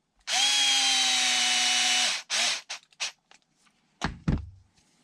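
A power drill drives small screws, with one sustained whine of about two seconds followed by several short bursts, close by, ending in a couple of thuds.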